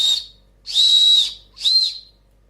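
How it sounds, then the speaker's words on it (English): A small plastic survival whistle from an $8 outdoor kit is blown in three short, shrill blasts, the middle one longest, each separated by brief silence and close to the listener. "survival whistles."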